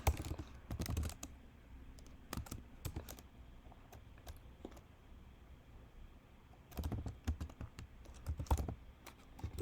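Code being typed on a computer keyboard, bursts of quick close key clatter separated by quieter pauses, no talk over it.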